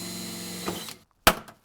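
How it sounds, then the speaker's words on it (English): A power drill with a 3/16 bit bores a hole for a Corvette ZR1 side skirt on a Z06, a close, steady whir that stops abruptly, then a brief sharp burst and a short tail follow after a pause. "There is 11 holes that we have to drill with a 3/16 drill bit"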